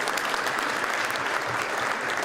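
An audience applauds an archbishop about to give an invocation, a steady, dense wash of clapping from a full room, held at an even level for its whole length with no voices breaking through.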